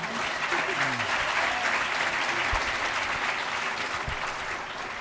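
Loud, sustained applause from a large crowd at a formal school board meeting fills the whole stretch, steady and dense with a few scattered cheers mixed in.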